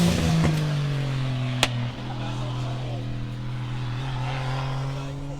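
A drift car idles and revs at Meremere Drift during a competition, a steady droning engine note with a sharp click partway through, heard at moderate distance under faint crowd ambience.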